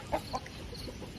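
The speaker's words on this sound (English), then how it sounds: "silver gray color rooster that I may end up keeping" A silver gray rooster clucking on a farm, two short soft clucks near the start followed by quieter faint murmurs, close by and moderately faint.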